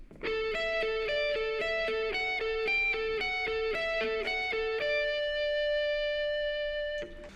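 An electric guitar plays a variation of a well-known riff, a quick repeating figure of picked notes, then settles into one long sustained ringing note, close and clear.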